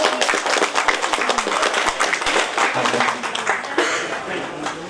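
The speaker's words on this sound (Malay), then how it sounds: "Berikan tepukan kepada orkestra bambu." An audience claps for a bamboo orchestra at a Kaamatan harvest festival event, a dense, sustained round of applause with many hands close and far, lasting throughout.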